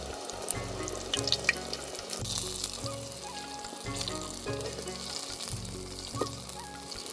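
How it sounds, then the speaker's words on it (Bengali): Eggplant slices fry in oil with a steady, quiet sizzle, broken by rhythmic clatter and stirring sounds, and no one speaks. "বেগুনগুলো ভাজা হয়ে গেছে, এখন আমি তুলে নেব।"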